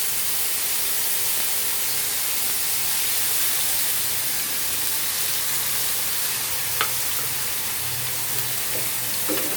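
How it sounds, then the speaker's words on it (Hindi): Spice paste with turmeric hits a hot pan while making tomato chutney and sizzles in a steady, loud hiss that keeps going, with a few faint clinks of a spoon, and no one talks. "अब इसमें जो पेस्ट हमारा है हम वो शामिल कर देंगे।"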